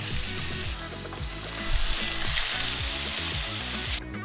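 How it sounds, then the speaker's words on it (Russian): Loud, continuous sizzling of a ribeye steak searing in a hot frying pan, crackling and spitting steadily throughout with no voices. "Теперь по 30 секунд обжариваем стейк с краев."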